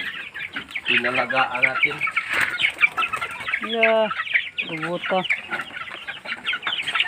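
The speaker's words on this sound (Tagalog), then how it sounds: "Yung mga manok sisiw natin guys oh" Hens and chicks clucking and peeping close by in a Philippine backyard, repeated harmonic clucks in short bursts, with people talking over them.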